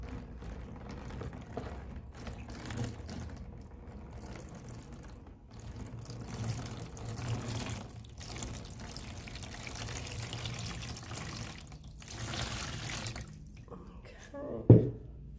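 Water poured over glass treated with Armour Etch cream, rinsing it off: a soft continuous splashing wash under speech for most of the span, ending in a brief louder splash.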